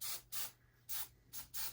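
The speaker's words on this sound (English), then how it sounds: "Spray them good with hairspray" Hairspray hisses from an aerosol can onto a dollar-store craft gnome in four short, even bursts with brief gaps between them, close and crisp.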